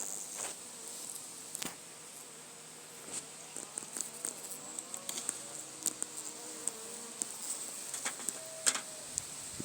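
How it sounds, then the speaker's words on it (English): Honeybees buzz inside a hive box during a late-season treatment check, a steady close drone with scattered louder flyby hums and no talking. "Nice lot of bees in here."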